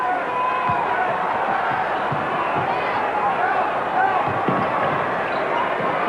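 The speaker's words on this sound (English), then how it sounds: "the crowd getting a little restless here in Charlotte" A restless crowd murmuring at a 1990 Bulls versus Hornets basketball game in Charlotte's arena, steady dense hubbub with occasional ball bounces and scattered shouts, under a commentator's voice.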